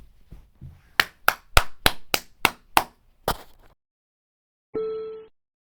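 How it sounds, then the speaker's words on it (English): About nine sharp, evenly spaced claps ring out crisply and close, followed after a short pause by a brief tonal chime, in a children's math lesson. "Let's clap our hands."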